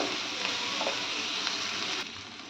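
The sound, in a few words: bay leaf, cloves and cinnamon frying in a pan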